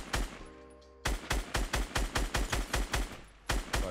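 Gunfire in Fortnite, a loud close burst of about fifteen rapid evenly spaced shots after an opening crack, with no talking.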